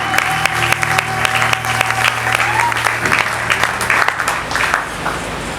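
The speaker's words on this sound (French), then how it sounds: "Est-ce que nous pouvons acclamer Jésus?" A church congregation applauds and cheers for Jesus, with steady loud clapping and crowd voices across the whole stretch, and a sustained organ or keyboard tone underneath.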